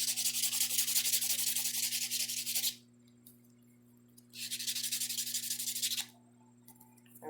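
Two bursts of close, raspy rubbing come from buffing and filing an acrylic nail surface smooth, separated by a short pause, with a faint steady electrical hum underneath.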